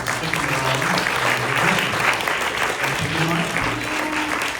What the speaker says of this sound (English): They clapped for us.